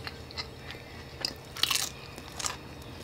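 Crispy air-fried beef fat being bitten and chewed up close, a few sharp crunches followed by wet, irregular chewing, with no talking.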